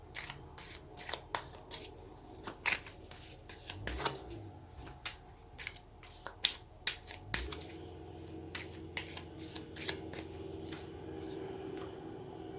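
Tarot cards are shuffled and drawn by hand at close range, giving quiet, irregular papery flicks, snaps and slides throughout, with occasional soft handling noises in between.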